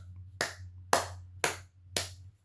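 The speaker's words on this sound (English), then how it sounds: "Matter of fact, and you get a clap." Four sharp, evenly spaced hand claps ring out close by over a low electrical hum, each snapping crisply and decaying quickly.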